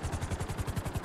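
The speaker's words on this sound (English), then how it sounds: "I don't like this helicopter." Helicopter in GTA Online, its rotor thudding in a fast, even rhythm of regular beats, close and steady for the whole stretch, with no voices.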